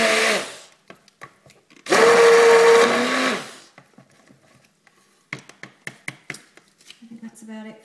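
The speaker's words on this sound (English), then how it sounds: "I think that's about it for the stick blender" An electric stick blender whirs in two loud bursts while mixing soap batter, its motor straining with a rising whine, followed by scattered knocks and clatter of handling, with a voice speaking nearby.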